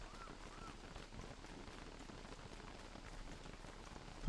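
Soft, steady rain patters evenly in the video game Don't Starve: Reign of Giants, a quiet continuous hiss with no voices.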